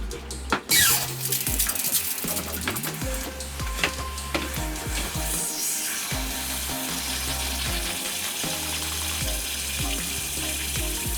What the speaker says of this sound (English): I'll use it for the spiders as well when watering them and putting it in the water dish